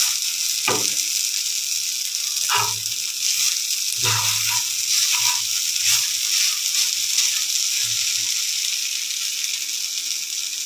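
Sliced potatoes frying in a pan for a Bengali aloo bhaji, giving a steady, close hiss of sizzling oil with a few soft clinks and stirring knocks scattered through it, and no talking.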